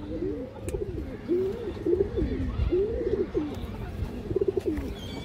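Pigeons coo close by in repeated soft, rolling phrases, several bursts in a row with short pauses, against a low background hum.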